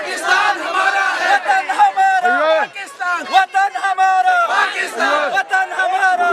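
A rally crowd in Azad Kashmir chanting slogans in unison, loud massed voices rising and falling in rhythmic repeated phrases, close and energetic throughout.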